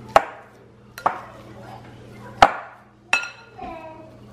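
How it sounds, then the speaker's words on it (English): Cooked potatoes being mashed in a pot, with four sharp separate knocks of the masher against the bottom spaced unevenly over a few seconds, close and fairly loud, each followed by a short ringing decay. "So the potatoes are already cooked. I'm just mashing them up."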